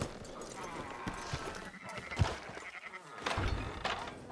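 Sheep bleating in Red Dead Redemption amid a flock being herded, with hooves clip-clopping and a few sharp thumps, several bleats rising over a busy, fairly quiet farmyard backdrop.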